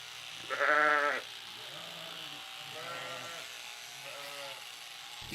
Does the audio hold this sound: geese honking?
no